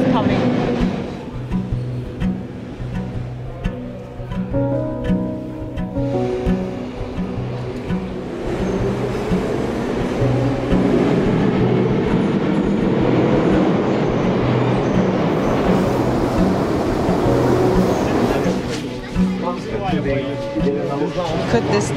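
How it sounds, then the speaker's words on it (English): A metro train pulls into a Soviet-era station in Minsk, Belarus, its rumbling, rhythmic wheel and motor noise building and staying loud throughout, with a person talking over it. "My train is coming."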